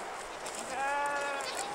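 Lambs grazing outdoors bleat in a short wavering call rising over a faint background, with human voices speaking nearby.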